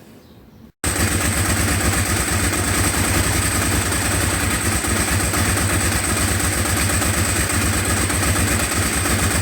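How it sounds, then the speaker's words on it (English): A Ducati 749S motorcycle engine starts after a brief quiet moment, then settles into a steady, loud, close idle with an even throbbing pulse that carries on to the end. "we'll start the engine and I'll play around with the settings"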